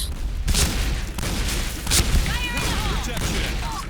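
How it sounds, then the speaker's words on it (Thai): An M1887 lever-action shotgun fires rapidly in a video game, with several sharp booming shots spaced about a second apart while a person talks. "เมื่อกี้ผมยิงค้างแล้วก็สับๆนะฮะ ให้มันได้ความเร็วสูงสุดมนแหะ"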